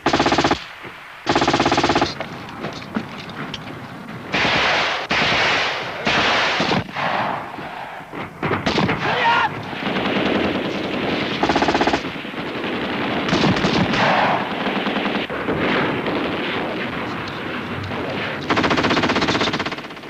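Sustained machine gun fire from armoured personnel carriers backing a mock attack, with dense, loud bursts and rapid rattling volleys running almost continuously, broken by short pauses and mixed with heavier booms.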